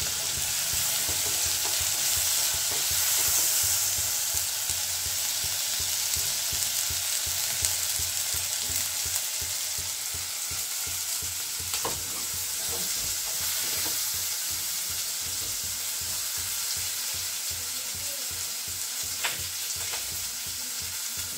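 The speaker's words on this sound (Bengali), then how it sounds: "পেস্ট আমার ফ্রাই হয়ে গেছে।" Spice paste sizzling in a kadhai with softened capsicum and tomato for kadhai paneer, a steady close frying hiss with frequent scraping stirs throughout, no talking.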